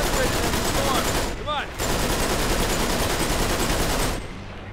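Sustained rapid gunfire in the video game Uncharted 3: Drake's Deception, loud and dense, rattling almost continuously with a brief dip partway through.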